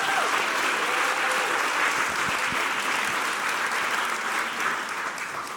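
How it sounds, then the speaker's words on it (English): A dense round of audience applause at a launch event held at a pool venue, loud continuous clapping that holds steady before tapering slightly at the end, with faint voices mixed in. "Guys, honestly, I think that deserves another applause"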